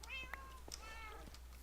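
Minecraft cat meowing in the game: a couple of faint, soft mews over a steady low hum, quiet and brief with no talk.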